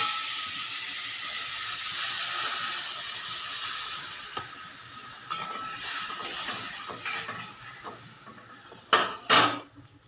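Water poured into a hot pan of curd and oil sends up a loud steamy hiss that gradually fades, followed by a few sharp clinks of a utensil against the pan near the end.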